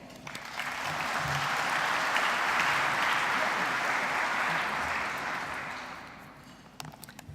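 Audience at a Melbourne Mining Club event applauding to welcome the moderator, a sustained wash of clapping from a large room that swells quickly, holds for several seconds, then tapers off.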